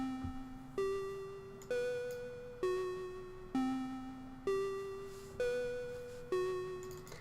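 A melody played on a synth: a looping, repeating sequence of bell-like notes in a slow, even rhythm, each phrase decaying before the next. It plays alone and fairly clear.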